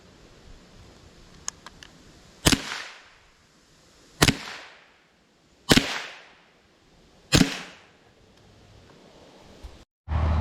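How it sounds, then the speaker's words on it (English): Four .22 long rifle gunshots fired at a tire crack out sharply and loudly, evenly spaced about two seconds apart, each with a short decaying echo, followed by a brief burst of noise at the end. "Alright, here goes the 22 rifle, long rifle."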